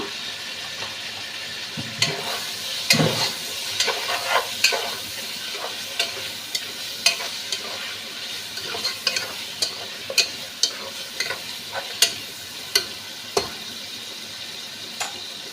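Turmeric is mixed into chicken biryani masala in a pan. The spoon scrapes and knocks repeatedly against the pan over a soft background sizzle, close and fairly loud, with no talking.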